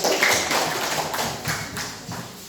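A group of students applauds in a classroom during a teaching-practice lesson, producing a steady, dense patter of clapping that stays fairly loud and even, with no voices over it.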